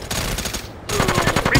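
Rapid automatic gunfire in the PSP game SOCOM U.S. Navy SEALs Fireteam Bravo 3, loud close bursts that pause briefly and then resume in a dense rattling stream.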